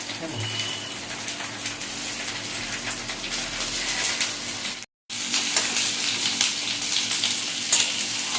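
Large pieces of capsicum and onion fry in a pan with a loud, constant sizzle and occasional stirring clatter, close up, broken by a brief cut of silence midway.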